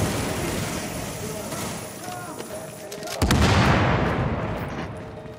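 Enemies blown apart by explosions in The Division video game: scattered gunfire and game noise, then a sudden heavy blast just past the midpoint that booms and rumbles away, with voices talking over the action.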